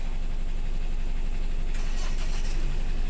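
A loaded truck on a mango-hauling run from Vengurla to Rajkot drives along the road toward a weighbridge, its steady engine rumble and road noise continuous and close throughout.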